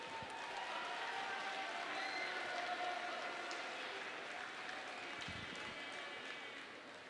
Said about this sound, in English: These two ladies deserve a nice round of applause